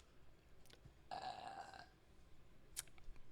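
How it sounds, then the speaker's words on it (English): A single burp, made away from the microphone during a podcast recording, lasts under a second as a fairly clear, rasping gulp. Quiet room noise and a few faint clicks surround it, with no talking. "burped off the mic this time."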